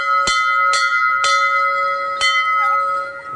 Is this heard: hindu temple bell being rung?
yes